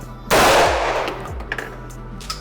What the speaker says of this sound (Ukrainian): Для початку зробимо одиночний постріл.